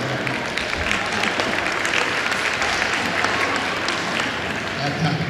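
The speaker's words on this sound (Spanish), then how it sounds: "¡Un aplauso para ellos!" Audience at a charity festival in Puerto Santiago breaking into loud, dense applause, continuous clapping with crowd noise throughout.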